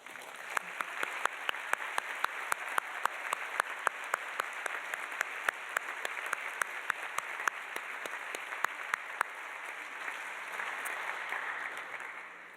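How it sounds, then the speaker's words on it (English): Sustained applause from a dinner audience honoring CBS alumni at a recognition and appreciation dinner: a steady, dense wash of clapping with sharper individual claps standing out, continuing at even strength for about twelve seconds. "please stand as you're able so we can recognize you with a round of applause"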